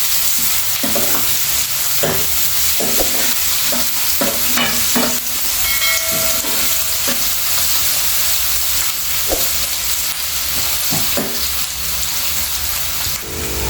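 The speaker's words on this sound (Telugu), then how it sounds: "చూడండి, ఇట్లా మంచిగా ఫ్రై చేసుకోవాలి ఉల్లిపాయలు." Onions frying in a pan for an egg curry, with a steady loud sizzle and repeated scraping stirs throughout, no talking.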